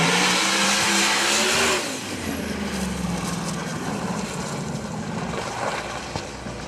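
A drag race car launching down the track at Maryland International Raceway during PDRA testing: a loud, roaring engine blast that surges at the start, then settles into a sustained broadband drone as the car pulls away.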